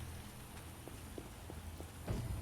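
Video game rain in The Witcher 1: Enhanced Edition patters softly and steadily in the background, with a few scattered soft knocks and a slightly louder burst near the end.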